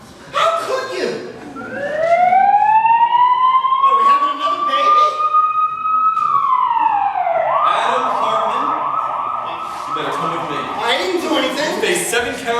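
A siren sound effect in a radio drama rises in a long wailing sweep, holds high, then falls and winds down, loud and close with busy voices talking over it throughout.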